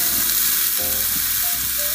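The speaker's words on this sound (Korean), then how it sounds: "달궈진 팬에 오일을 넉넉히 두르시고 다진 마늘, 파, 청양고추를 넣고 볶아줄 거예요." Minced garlic, scallion and cheongyang chili sizzle steadily in generous hot oil in a pan, a continuous close frying hiss with brief dips and small crackles.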